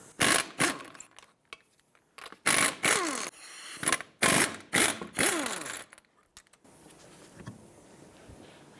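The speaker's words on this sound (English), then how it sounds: "Let's remove the wheel, 21mm socket." Lug nuts spun off a front wheel of a 1997-2001 Lexus ES 300 with a 21mm socket: several loud, close whirring bursts of a power tool separated by short pauses, then a quieter rustling tail.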